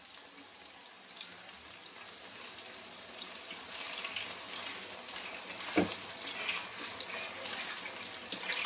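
Chicken fries in a pan with a steady, moderately quiet sizzle and crackle, close by, with a sharper clatter around the middle.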